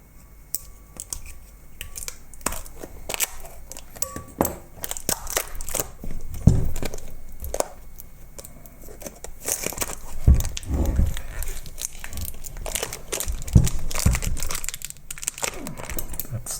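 Kapton tape being peeled and crumpled off an argon laser tube during a teardown, close irregular crinkling and sharp crackles with quiet gaps, a voice occasionally talking.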